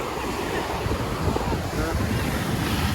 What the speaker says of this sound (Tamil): அலை அலை அடிக்குது பாருங்க எப்படின்னு.